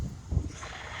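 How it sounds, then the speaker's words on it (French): Gusting wind buffets the microphone outdoors on a fine sunny day, low rumbling blasts swelling briefly in the middle, with no voices heard. "Il y a du vent."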